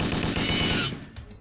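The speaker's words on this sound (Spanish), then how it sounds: "esto se trata de disparar hasta que los matas" Rapid automatic gunfire from the video game Halo Zero rattles in a dense, loud burst that cuts off partway through.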